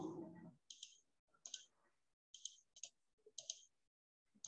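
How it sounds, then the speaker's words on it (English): Sharp plastic key clicks tap out in quick clusters with short pauses between them, close and crisp in a quiet room. "Wait, we are typing again."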